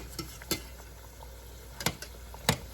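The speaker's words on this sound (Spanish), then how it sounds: "los vamos a sofreír nada más un poquito, a que nada más se pongan un poquito tostaditos" Plantain slices frying in a pan as tostones, a soft background sizzle broken by a few sharp clinks and scrapes as pieces are turned.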